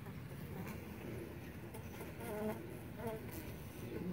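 Steady droning buzz of many honey bees at a winter feeder, continuous and fairly close, with a busy low hum underneath throughout.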